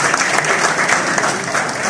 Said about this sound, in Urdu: بے پناہ تالیاں